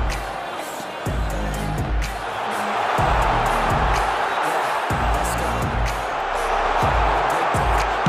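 Stadium crowd in eFootball 2023 cheering and roaring steadily throughout a mobile football match, with repeated low thumping impacts and a surge of noise midway, loud and continuous.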